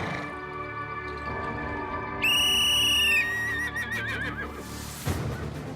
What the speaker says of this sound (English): She blew the whistle and now I'm into my first jump